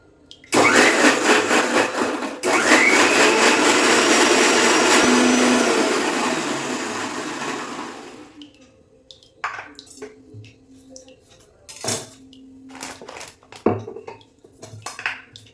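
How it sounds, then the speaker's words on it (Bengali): An electric mixer grinder whirs loudly for about eight seconds as it grinds ginger, garlic, cumin and green chili, then stops, followed by scattered kitchen clatter and clinks. "এই যে মিক্সারে কিন্তু মশলা পিষে নিয়েছি"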